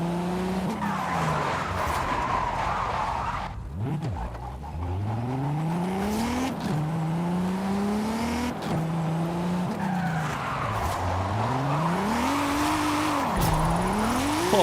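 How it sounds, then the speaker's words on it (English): A Mercedes drifting in Forza Horizon 5, its tires squealing in long, wavering skids that rise and fall as the engine revs, loud and continuous throughout. "I don't even know how good this drifts, but we're gonna try it."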